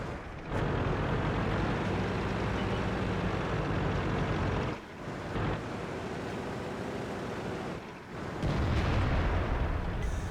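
Artillery fire in a World of Tanks-style tank battle game on the Overlord map: heavy, continuous booming rumble fills the scene, broken by two short dips, then swells louder again.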